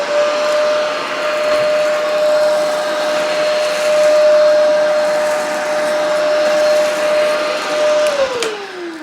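A Riccar upright vacuum cleaner runs on its suction motor alone with the brush roller off, giving a loud, steady whine and airflow rush that drops in pitch just before the end.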